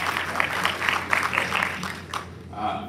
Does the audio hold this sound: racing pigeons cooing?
no